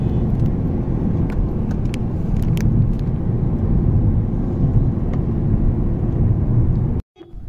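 Loud, steady road rumble from inside a Nissan Magnite non-turbo driving in traffic, with broadband engine and tyre noise that drops off abruptly near the end.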